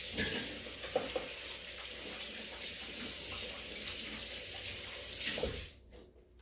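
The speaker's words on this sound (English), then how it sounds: "I gotta wash my hands" Tap water running steadily into a kitchen sink while hands are washed, a continuous close hiss and splash that cuts off near the end.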